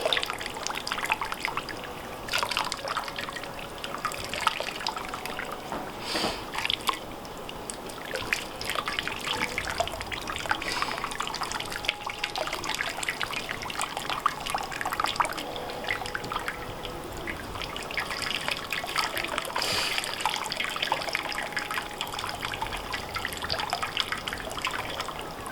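Boiling water is poured steadily over a Peking duck, a continuous close trickle and splash of liquid running unbroken for nearly half a minute with no voices.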